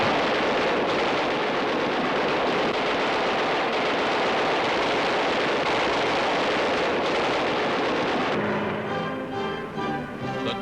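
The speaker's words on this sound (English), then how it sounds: "Guns are tested on the ground." Aircraft machine guns test-fired on the ground in 1943, a loud continuous roar of rapid gunfire that persists throughout, thinning slightly toward the end.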